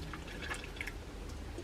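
Water swishing and dripping inside a Worcestershire sauce bottle as it is rinsed out beside a skillet, soft close trickling and small liquid splashes over a low steady background.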